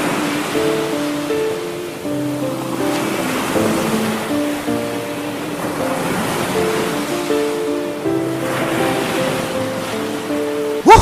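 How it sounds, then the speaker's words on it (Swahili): Ocean waves wash up on a beach as the tide comes in, a steady rushing surf that swells and eases every few seconds beneath sustained musical tones, with no voices. "ilikuwa sio Junkesh, bado yuko ufukweni mwa bahari na maji sasa ndiyo yalikuwa yanaanza kujaa"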